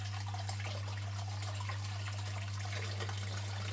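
Water drains steadily through a gold sluice mat, producing a faint, continuous trickle and wash beneath a constant low hum.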